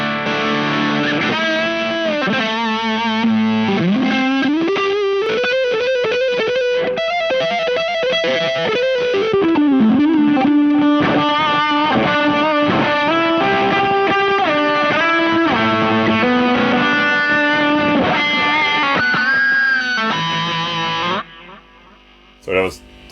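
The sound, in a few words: Jaffa Fuzz guitar pedal with MXR Power 50 overdrive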